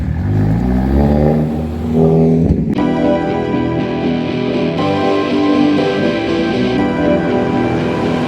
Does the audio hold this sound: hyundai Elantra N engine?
yes